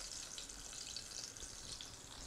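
Butter and a drizzle of extra virgin olive oil sizzle softly in a hot pot for risotto, a faint, steady crackling fry with no voices.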